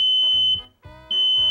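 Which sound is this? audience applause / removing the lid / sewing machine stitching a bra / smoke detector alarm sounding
smoke detector alarm sounding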